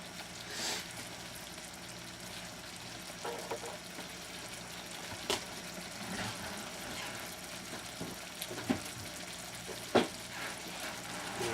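Green beans and mushrooms sautéing in a pan, a low steady sizzle with scattered clinks and stirring scrapes, close by and without talk.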